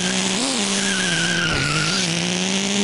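Glow-engine RC car in the racing game Re-Volt losing grip, a continuous high engine whine with tires squealing and skidding, the pitch wavering as it slides, loud and steady throughout.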